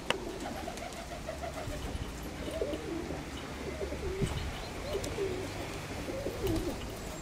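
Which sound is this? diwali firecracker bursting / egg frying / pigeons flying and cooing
pigeons flying and cooing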